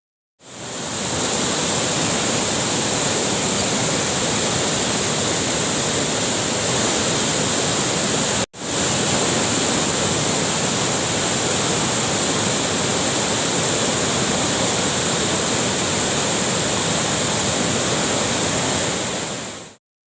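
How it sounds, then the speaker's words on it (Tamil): Surplus water pours from the full Mayanur barrage on the Cauvery river as a loud, unbroken roar of rushing water, steady throughout, with one brief dropout midway. "அணை நிரம்பியதால் தண்ணீர் முழுவதுமாக அப்படியே உபரி நீராக வெளியேற்றப்படுகிறது."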